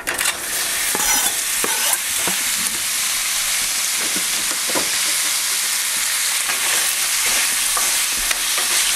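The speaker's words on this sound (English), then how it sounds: "we're going to put the sausages in and brown them." Sausages browning in canola oil in a hot pan: loud, dense sizzling and crackling up close, with scattered sharp spits and pops from the fat, continuous throughout with no voices.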